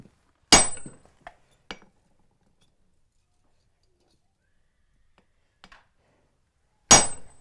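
Hot metal is hammered on an anvil while a blacksmith forges a handmade hammer, producing sharp ringing clangs: a strong strike, two lighter taps, a long pause, a faint double tap, then another loud strike.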